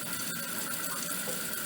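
A toilet tank refills after a repaired flush valve chain, giving a steady, even rush of running water close by that continues without a break.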